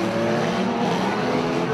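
Unlimited banger racing cars roar past on the home straight at Mildenhall, a loud, dense engine drone with tyre noise that holds steady for under two seconds.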